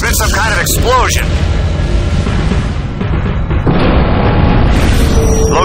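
An explosion in the space-combat video game Tachyon: The Fringe, heard as a loud, sustained, booming roar that fills the whole stretch, with shifting bursts near the start.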